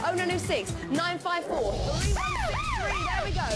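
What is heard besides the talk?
auction siren sound effect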